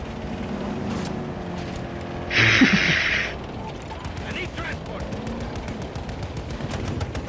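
Rapid gunfire bursts from the video game Battlefield 2042 during a tank battle against infantry, with a dense, harsh volley in the middle and scattered quieter shots continuing over steady background game noise.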